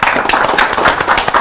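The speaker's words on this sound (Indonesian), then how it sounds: "Tepuk tangan dong." Audience clapping at a founders' inspiration event, a brief burst of dense, steady hand claps filling the room at close range with no voices over it.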